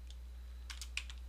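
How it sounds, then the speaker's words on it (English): Light typing on a computer keyboard, a brief scatter of soft keystrokes, quiet and close, over a low steady hum. "I'm going to click in here, and I'm going to just type in source"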